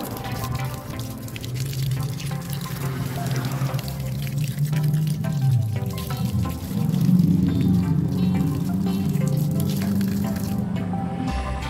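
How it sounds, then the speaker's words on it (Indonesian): Water pours and splashes steadily through a dirty pipe being rinsed, a continuous close wet gush with squishy sloshing that stops abruptly at the end. "Karena pipanya masih sangat kotor, akan saya cuci terlebih dahulu."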